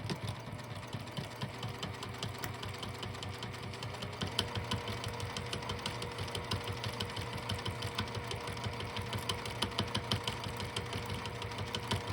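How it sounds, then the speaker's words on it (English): A sewing machine stitching across the bottom of a sling bag, running with a steady, fast mechanical chatter and regular pulsing rhythm throughout, close and without talk. "I'm going to sew across the bottom first"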